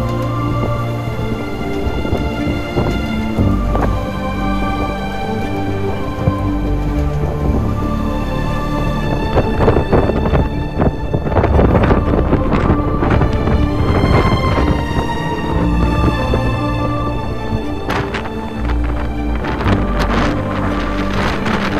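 Strong gusting wind batters the microphone on the Arctic island of Myken, roaring loud and continuous with surging bursts and a flag or rigging flapping and rattling in the blasts.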